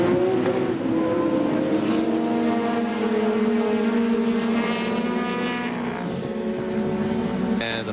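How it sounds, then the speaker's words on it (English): A field of 1985 IMSA GTP race cars, including Porsche 962s, laps the Portland circuit. Their engine drones overlap and rise and fall as the cars pass at moderate distance, with no voices heard. "Cars scrubbing in the tires, bringing them up to operating temperature."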